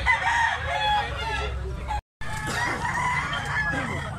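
A black-legged gamecock offered for sale crows loudly and close, with clucking and other fowl calls around it, while a voice talks over the birds; there is a short break of silence partway through.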